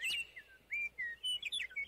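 A nightingale sings in short, bright chirps and whistled phrases, several quick notes separated by brief pauses, clear and close against a quiet background.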